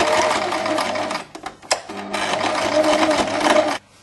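A sewing machine stitches a tie onto a vest in quick, steady whirring runs, pausing briefly midway with a few clicks before resuming, close and fairly loud.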